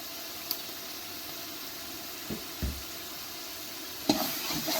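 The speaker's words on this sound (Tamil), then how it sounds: "தயிர் சேர்த்து நல்லா கலக்கலாம்." Yogurt being stirred into chicken biryani masala in a large pot for a big batch, soft scraping strokes and a low sizzle, with a few louder knocks of the spoon against the pot near the end.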